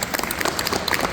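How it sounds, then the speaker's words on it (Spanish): Loud, close applause mixed with crowd noise at a science festival in Paraguay, busy overlapping claps filling a short burst. "para quienes también pido otro fuerte aplauso"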